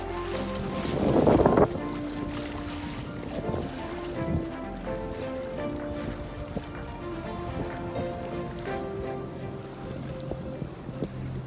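A sailboat under engine power motors out of an anchorage, a low steady drone with water wash and an early gust of wind buffeting the microphone.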